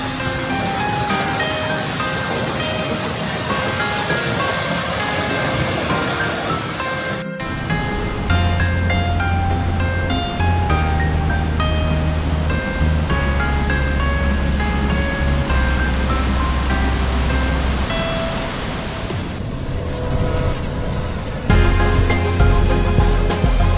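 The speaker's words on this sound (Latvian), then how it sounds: "Pats ūdenskritums ir apmēram 15 metru augsts." A roughly 15-metre waterfall in a ravine among birches and moss in Norway, heard as steady, dense rushing water throughout, loud and continuous with a low rumble and no talk.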